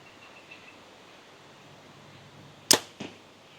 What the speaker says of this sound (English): I'm going to slowly pull till I get that click